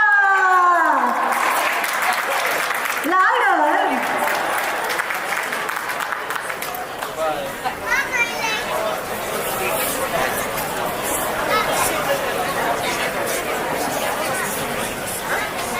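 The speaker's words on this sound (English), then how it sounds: "Huge round of applause, ladies and gentlemen, for Jagpreet Bajwa." An audience at a Republic Day banquet-hall event applauds a singer, loud dense clapping with crowd chatter that fades into hubbub, and a voice briefly calls out.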